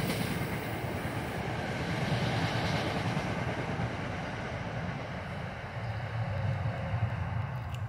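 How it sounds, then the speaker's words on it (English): A train passes with a broad, steady rumble of rail cars rolling along the track, loud and continuous throughout, with no voices over it. "There's a train."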